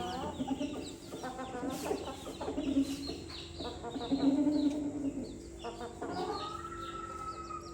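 Laying hens clucking and cackling in a series of short, uneven calls, fairly quiet and close, with occasional bird sounds in the background.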